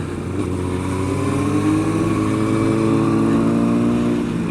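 A motorcycle accelerates hard on the Lublin race track as the rider holds the throttle open, the engine note climbing steadily and loud, close to the bike throughout.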